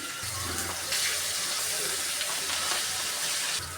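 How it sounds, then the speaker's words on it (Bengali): Fish sizzling as they fry in hot oil in a kadai, a steady, close hiss that holds evenly throughout with no talking. "কড়াইতে তেল দিয়ে দিলাম এখন আমি মাছ দিয়ে দেবো"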